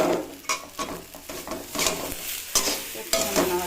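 Fish pieces and green chillies frying in a pan while being stirred, with rhythmic scraping and clanks of a utensil over a continuous close sizzle.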